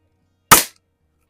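A vintage El Gamo model 68 .22 caliber break-barrel air rifle fires once in a garage at a splatter target, a single sharp, close crack that fades within a fraction of a second amid silence.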